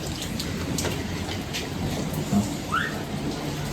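Steady night rain hisses in a continuous wash, with a couple of faint chirps standing out briefly.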